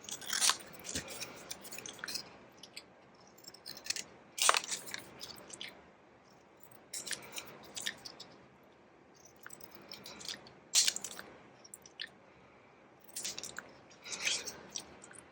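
Scissors snipping through paper while fussy cutting small pieces of ephemera, a close, crisp series of irregular crunchy cuts spaced across the stretch with quiet pauses between.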